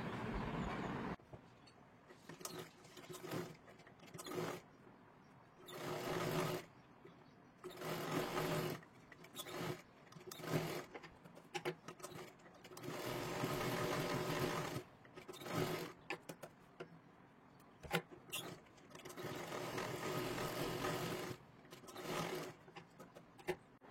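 Sewing machine stitching a katori blouse, many short and longer runs of rapid stitching broken by brief stops, close and fairly quiet.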